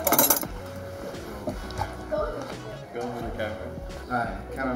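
Metal spoons being fetched in a home kitchen while cooking Korean rice cake dumpling soup, a loud rattling clink of cutlery at the start followed by scattered lighter clinks and clatters under people talking.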